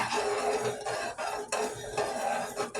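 Caramel sauce being stirred in a pan on the stove, a steady scraping and swishing with clinks of the utensil against the pan, close and continuous with brief pauses.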